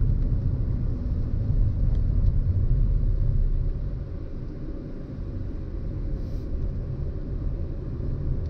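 A 2019 Fiat Cronos 1.3 manual rolls over a street of small rectangular stone pavers, giving a steady low road rumble from inside the cabin with slight dips in level and no talking.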